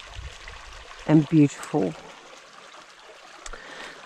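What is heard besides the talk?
clear stream water flowing in semi-rainforest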